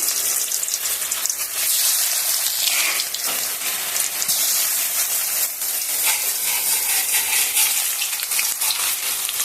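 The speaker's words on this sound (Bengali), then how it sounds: "তেল গরম হয়ে গেছে, আমি সবগুলি ধোঁকা দিয়ে দিচ্ছি।" Dhoka, lentil cakes, frying in hot white oil in a kadai, producing a loud, dense, continuous crackling sizzle that holds steady from start to finish, close and alone.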